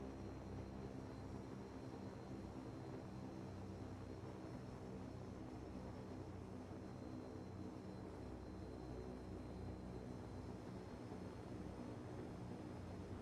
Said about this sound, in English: Turbines still be spinning at high RPM even though you're not putting on power.